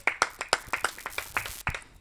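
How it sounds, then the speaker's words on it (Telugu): A church congregation claps along during a Telugu sermon, sharp, evenly spaced handclaps in a steady rhythm, fairly close and loud, with no talking over them. "కొట్టండి చప్పట్లు గట్టి."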